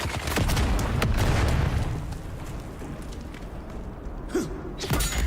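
A grenade blast and gunfire in a Dune: Awakening battle, a loud rumbling burst at the start followed by scattered shots and a sharp crack near the end, close and heavy.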